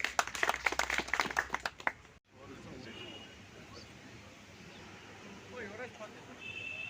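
Audience clapping at a Democratic Progressive Azad Party office bearers meeting in Banhal: a burst of dense, close clapping for about two seconds, cutting off abruptly into quieter room murmur.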